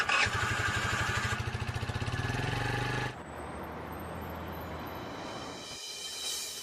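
A motorcycle starts and idles with a rapid, loud, pulsing engine throb, then shifts to a smoother, quieter running note as it rides off.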